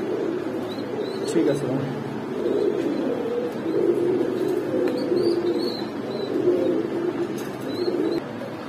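Saharanpuri running pigeons coo in a loft on a farm, a low continuous cooing murmur under a man's brief spoken remark.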